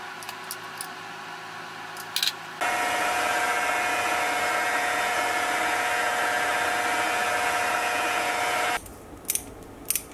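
A continuous whirring drill bores bolt holes in a metal mounting bracket for about six seconds, steady and close, with short clicks of handling before and after.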